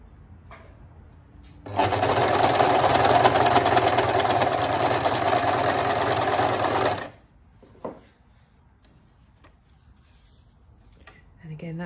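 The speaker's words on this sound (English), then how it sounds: "So now I'm going to take it to the overlocker and give that a go." An overlocker sews fabric with a loud, fast, steady mechanical whir and rapid stitching chatter for about five seconds, then stops, leaving faint handling sounds.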